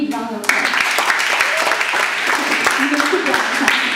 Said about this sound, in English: Let's give yourself a big round of applause.